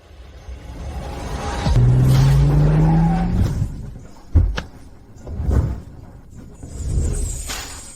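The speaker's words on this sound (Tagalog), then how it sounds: "ipapark ko muna ang kotse" A car drives in, with a rising engine note and a brief tire squeal, then pulls into a parking spot and stops, followed by a few scattered thumps and knocks of the car being parked.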